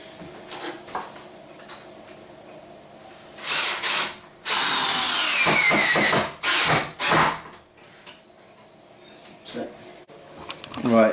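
Power drill driving big screws into a wooden bench base, several short loud whirring bursts with pauses between, close by, amid quieter handling noises and occasional faint talk.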